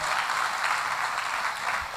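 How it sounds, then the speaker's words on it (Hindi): Brief applause from an event audience in a Hindi-speaking gathering, a steady dense patter of clapping filling the whole moment at moderate volume with no voices over it. "उनके लिए तालियां बनती है"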